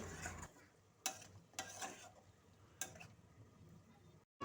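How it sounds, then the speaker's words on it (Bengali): Marinated chicken for biryani being stir-fried in a wok, quiet sizzle beneath a few sharp scraping clinks of a spatula against the pan, spaced irregularly and close. "আমি ম্যারিনেট করা বিরিয়ানি চিকেনটা কষিয়ে নিচ্ছি"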